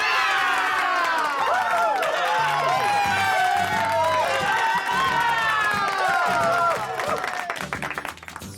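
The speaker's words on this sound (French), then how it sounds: "Applaudissons-la bien fort." Cheering and clapping for the winner of a toy Piston Cup race, with excited high voices shouting over continuous applause that fades slightly at the end.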